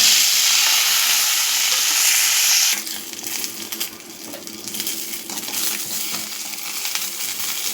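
Small slit brinjals sauté in oil, opening with a loud hissing burst as they hit the pan, then settling into a lower, crackling sizzle with scattered stirring sounds.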